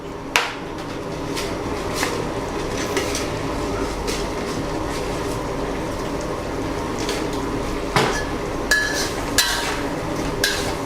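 Luffa and egg stir-fry in a pan with oyster sauce, fish sauce and sugar, giving a steady sizzle with scraping and clinking of the utensil against the pan and a few sharper knocks.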